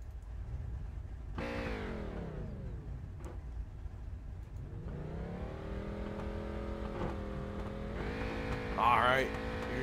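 Race cars in the iRacing simulator, engines revving up through the gears in rising sweeps and downshifting, several cars close together fighting for position.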